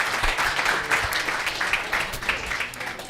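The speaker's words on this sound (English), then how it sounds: "Everybody give a little round of applause to Fred and Colleen" A round of applause fills a tavern room, dense steady clapping from a modest crowd at moderate distance, holding evenly for a few seconds with some murmuring voices mixed underneath.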